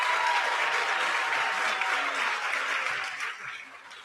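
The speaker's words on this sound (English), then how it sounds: "Let's once again give a round of applause to all of our graduates in CNC machining and quality control." An audience at a graduation ceremony for CNC machining and quality control graduates claps steadily, with dense applause that fades toward the end.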